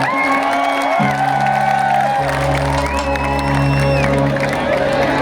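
Loud crowd cheering and whooping from a live Dussehra festival concert audience in Amloh, Punjab, sustained throughout with music tones running underneath.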